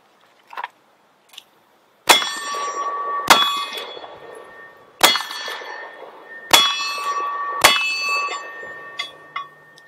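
Five .45 Long Colt revolver shots fired from a stainless Ruger New Vaquero at a range, each followed by a sharp metallic clang of steel targets ringing out, spaced about 1.5 seconds apart, after two faint earlier knocks.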